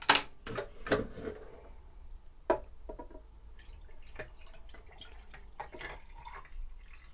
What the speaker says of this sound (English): Let's add in some ice.